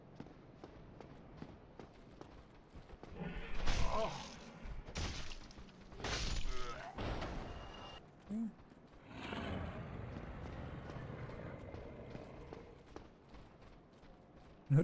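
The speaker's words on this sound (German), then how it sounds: "Man hört auf jeden Fall Schritte" Game footsteps echo through the Dark Souls world, with repeated clattering steps and scuffs that swell louder at times, mixed with other game sounds and bursts of noise.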